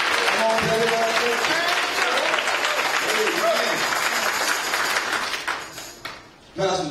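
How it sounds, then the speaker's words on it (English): At a gospel celebration, a church congregation claps in praise, a loud and dense burst of applause that fills the space, with voices mixed in before it thins out near the end. "Give God a hand clap of praise."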